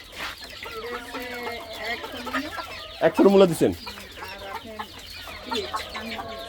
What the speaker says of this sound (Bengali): এগুলো ডিমের মুরগি না এত ছোট মুরগি দেখেন